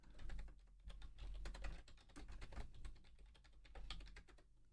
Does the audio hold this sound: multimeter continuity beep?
no